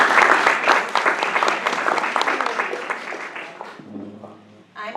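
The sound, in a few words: audience applause for candidates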